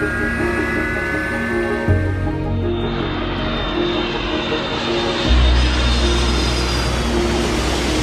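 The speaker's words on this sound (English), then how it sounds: "The plane then began taxiing towards runway 10." A Boeing 727-200 airliner taxis toward the runway, its engines giving a steady, loud broadband roar with a shift in tone partway through and sustained low rumble, no voices.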